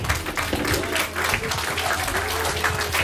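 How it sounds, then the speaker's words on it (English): Church congregation clapping hands together at a Sunday evening devotion, a steady dense patter of many hands that fills the room and carries on throughout, with some voices mixed in underneath. "hand clap"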